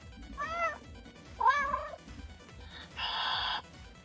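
A domestic cat meows close by, with two separate drawn-out calls followed by a shorter, harsher cry, and no voices heard.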